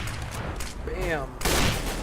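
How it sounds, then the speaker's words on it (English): Gunfire in a Counter-Strike esports match, with shots fired through smoke: a sustained burst of game gunshots under a caster's excited commentary, with a louder volley late in the clip. "Taken down by some shots fired through smoke"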